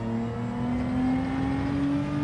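A Mazda 3 engine in Gran Turismo 7 drones steadily at a near-constant pitch, a smooth sustained rumble with no talk over it.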